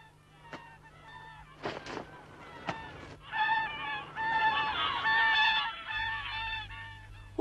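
Wild swans call as they approach, with several loud honking cries that overlap and swell in volume, preceded by a few sharp clicks.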